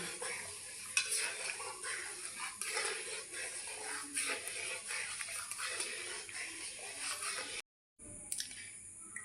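Semolina is stirred into milk in a pan, giving a continuous soft, wet scraping and swishing with faint sizzle. The sound drops out briefly near the end, then resumes.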